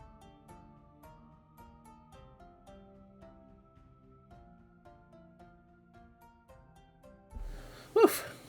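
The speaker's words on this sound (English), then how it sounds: "I'm going to sneeze." A single loud, sharp sneeze bursts out at the very end, after quiet background music plays for several seconds.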